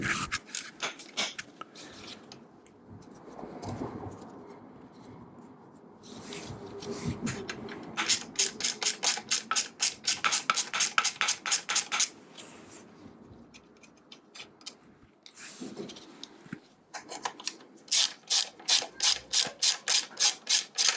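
Ratchet wrench loosening the bolts of the rear brake master cylinder bracket on a Royal Enfield Meteor 350 motorcycle, with close, rapid bursts of clicking pawl strokes separated by quieter pauses and handling noises.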